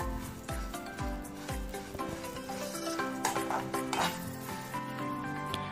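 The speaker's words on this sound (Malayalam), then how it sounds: "ഇനി നമുക്ക് ഇതുപോലെ ഒരു പാൻ നന്നായിട്ട് ചൂടാക്കിയതിന് ശേഷം അതിലേക്ക് നമ്മുടെ അരി ഇട്ട് കൊടുത്തിട്ട്" Rice dry-roasts in a hot pan for Kerala ari unda, giving a soft crackling sizzle under repeated scraping strokes of a stirring spoon, close up and fairly quiet, with no speech.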